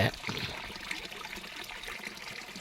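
Water from a motor pump trickles and splashes into water troughs, a soft continuous dribbling stream heard faintly and fairly close.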